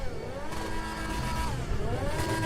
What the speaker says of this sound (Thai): ไม่เสียงเครื่องยนต์มันน่ากลัวจังวะ